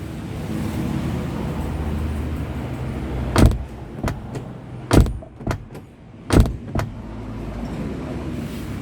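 A Nissan NV van door is shut repeatedly. Three loud, solid slams come with several lighter latch clicks and thuds between them, over a steady low background rumble.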